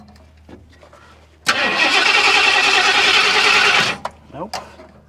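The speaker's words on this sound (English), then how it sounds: "Let's see if I can get it running long enough to fix itself again." A 1976 Ford F250 crew cab truck, abandoned for 20 years, cranks loudly for about two and a half seconds without catching, then stops, followed by a few faint clicks and knocks.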